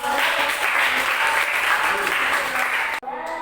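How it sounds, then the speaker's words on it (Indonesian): Sustained applause from a class of students fills the classroom, steady and loud for a few seconds before cutting off abruptly. "Sekarang lagi tepuk tangan untuk kalian"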